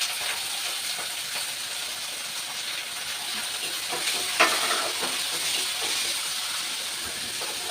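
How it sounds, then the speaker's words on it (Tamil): Ginger, green chilli and onion sauté in a pan for Mappillai samba upma, making a constant hissing sizzle with a brief clatter midway. "இப்போ இஞ்சி போட்டுக்கோங்க, பச்சை மிளகாய், வெங்காயம் போட்டுக்கோங்க."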